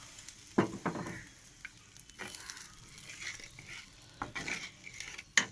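Bhola fish mustard curry sizzles gently in a pan while a utensil stirs it, with soft frying hiss and intermittent scraping and clinks close by.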